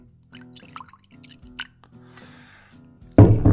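Blanton's bourbon poured into a fancy glass: soft drips and small liquid trickles over a low steady hum, ending in a sudden louder splashing burst close by.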